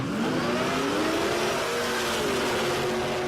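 Drag racing car with a supercharger blower, loud sustained engine roar with a rising whine that climbs in pitch as it accelerates, continuous and close throughout.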